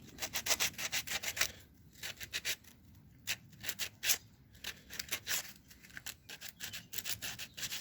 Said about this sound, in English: Now this medium sandpaper will rip through this nice and easy.